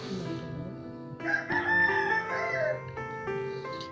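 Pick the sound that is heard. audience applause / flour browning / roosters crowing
roosters crowing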